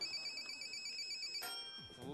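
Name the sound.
telephone ringing as call connects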